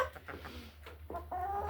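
Backyard hens, including a white leghorn, give a few soft, close clucks in short bursts, quiet with no talking.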